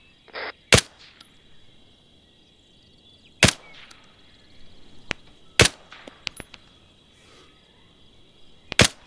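Video game gunfire aimed at an enemy in a tower: a handful of sharp, separate shots spaced several seconds apart, with quiet gaps and faint background ambience between them.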